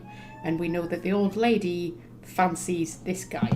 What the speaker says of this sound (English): Just excuse my cat screeching in the background.